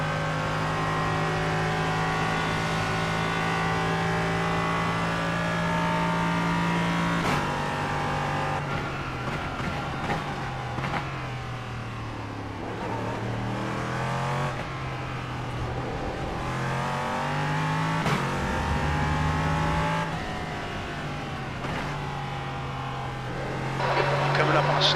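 A race car engine drones and climbs through the gears at Le Mans, pitch rising and dropping through shifts and braking as it comes up on a slower car, with voices talking over it at times.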